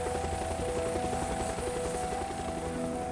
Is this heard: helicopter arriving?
yes